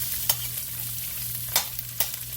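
Onions sizzling in a pan, a steady close hiss with three sharp spatula scrapes spaced out across it and no talk.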